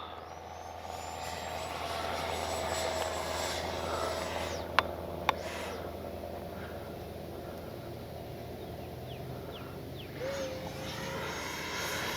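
A Freewing 70mm F-35 RC jet flies with a steady electric ducted-fan roar that holds throughout, broken by a couple of sharp clicks and a faint whistle near the end, under a quiet outdoor background.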